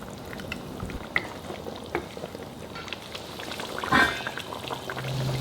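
Asam pedas fish stew made with ikan kaci simmers softly in a wok while being gently stirred, producing quiet bubbling and a few light scrapes and clinks, faint and close.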